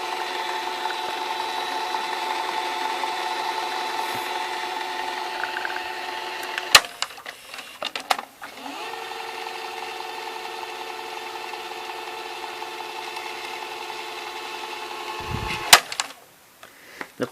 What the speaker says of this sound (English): Then fast forward and rewind.